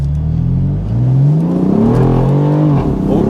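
A BMW M4 Convertible (F83) with a valved exhaust revs hard from near standstill, the engine note climbing and wavering loudly up close as the wheels spin, one continuous throaty roar.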